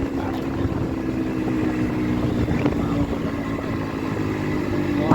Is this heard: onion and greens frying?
no